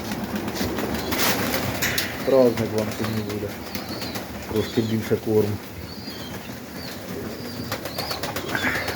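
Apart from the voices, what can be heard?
pigeons cooing and flapping in the loft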